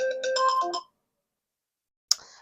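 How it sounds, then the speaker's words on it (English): A phone alarm ringtone plays a short bright melodic phrase close up, then cuts off to silence, and a sharp chirp from the same phone follows near the end. "that was my alarm to remind me that I have to make a purchase in a little bit"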